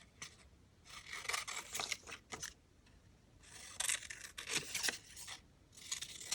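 Scissors snip repeatedly through a paper envelope, with crisp close cutting strokes coming in uneven bursts separated by short pauses.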